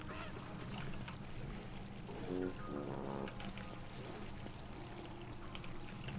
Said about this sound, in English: I hear the sounds of water.